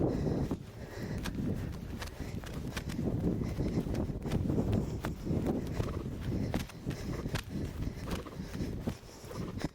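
A horse trots steadily in a riding arena, hooves thudding in an even rhythm on soft ground, with faint breathing and tack noise.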